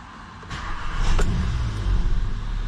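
Engine of a 2016 Volkswagen Golf R Line starting up, a brief crank catching into a steady, close idle rumble with no talk.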